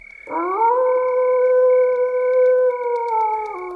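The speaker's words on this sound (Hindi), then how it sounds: "दूर कहीं से कुत्तों के रोने की आवाज आ रही थी।" One long, drawn-out howl of a dog rises quickly, holds a steady mournful tone for several seconds and dips slightly at the end, sounding eerie over a quiet, still background.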